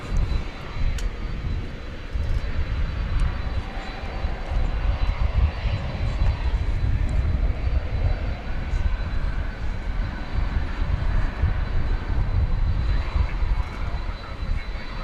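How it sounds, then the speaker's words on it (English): An American Airlines Boeing 777-200 taxiing to the hangar at DFW Airport, a continuous low engine rumble and hum at moderate distance, steady and unbroken with no clear voices. "Is an American Airlines 777-200"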